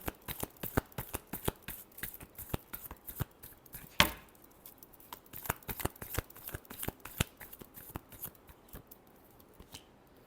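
Tarot cards being shuffled by hand during a reading, a quick run of crisp riffling clicks and snaps with one sharper slap partway through, close and fairly quiet, with no voices.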